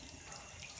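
Shower water running over a phone, a brief steady hiss of spraying water, close and continuous, with no talking.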